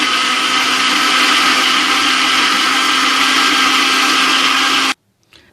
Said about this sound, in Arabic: ونطحن باش نتاكد انها طحنات مزيان